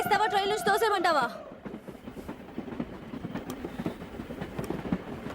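Interior of a moving passenger train, a continuous rolling rumble with faint rhythmic clatter; a loud voice speaks at the start, then the train noise carries on alone.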